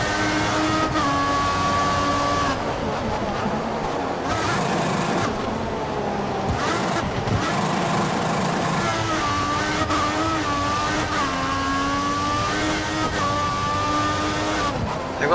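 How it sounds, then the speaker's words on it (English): F1 2014 race car engine from the video game, Canada round, a loud continuous whine with rising and falling pitch as the car accelerates and shifts, steady and close throughout. "Feels like the inside of a race car in my room right now"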